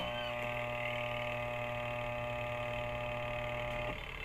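A washing machine motor that fails to spin hums steadily and continuously at close range, with no speech, then cuts off abruptly near the end.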